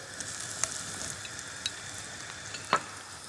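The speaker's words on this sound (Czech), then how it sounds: "Do pánvičky si dám olivový olej. Přidám cibuli a česnek. Cibuli opeču jako první." Onion, garlic and carrot sauté in olive oil in a pan with a soft, continuous sizzle, broken by a few sharp clicks and a louder utensil tap near the end.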